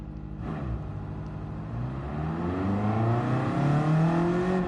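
A race car engine in a sim racing game climbs steadily in pitch as it revs and accelerates, loud and continuous with no talk over it.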